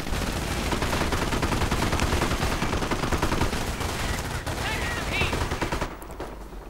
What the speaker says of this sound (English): Opening up on the MG42.